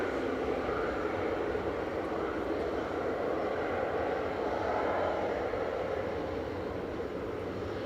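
A 22-year-old Airbus A319-100 airliner, flight 2173 from Brussels, at Manchester Airport, producing a steady, continuous jet roar that holds evenly throughout without a break.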